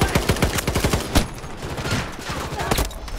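Rapid automatic gunfire in Battlefield 2042 crackles close and loud in a fast burst, then gives way to scattered, more distant shots and battle noise.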